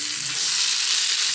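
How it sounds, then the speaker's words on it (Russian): Potato and cheese waffle batter fries in a waffle maker with a dense, steady sizzle, close and fairly loud, with no talking over it. "О, она уже жарится."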